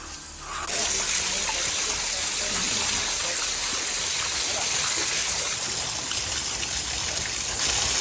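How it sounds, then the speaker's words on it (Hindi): A village drinking-water tap in Dronagiri, Uttarakhand, runs in a steady, loud, close gush that continues without a break. "ये सिर्फ यहाँ पर पीने का पानी भरा जाता है"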